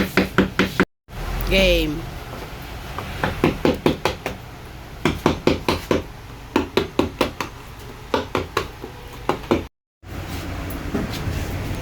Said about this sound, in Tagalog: Titiktikan ko muna para makita natin kung gaano pa katibay.